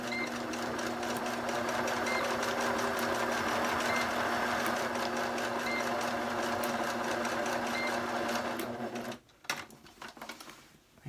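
A sewing machine runs fast and steady as it stitches back and forth across elastic for quiet book binding, then stops abruptly, leaving a few small handling clicks.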